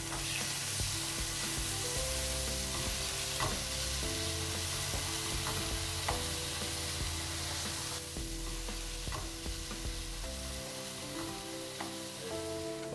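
Meat sears in a hot pan, a steady loud sizzle and frying hiss as the pieces are rolled around, with faint stirring clatter and no talking.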